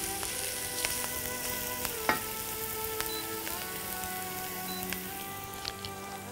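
Hot fried onion and minced meat sizzle steadily in a pan while kofta Dawood Pasha is prepared, with scattered crackles and pops and a few louder clicks. The sound is close and continuous, and no one speaks.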